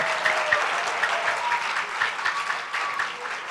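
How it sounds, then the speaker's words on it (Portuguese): A church congregation claps steadily for a few seconds, a dense, moderately loud wash of many hands with no voices rising above it. "Aplauda mais forte em nome de Jesus aí, meu."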